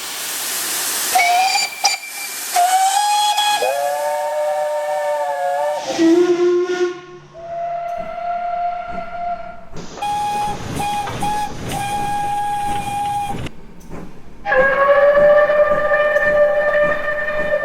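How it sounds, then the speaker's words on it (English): A Britannia class steam locomotive of the 1966–67 British steam era eases out of its shed, with repeated loud whistle blasts of changing pitch over a breathy hiss of steam, heard close. "Britannia class loco eases out of the shed with its nameplate missing."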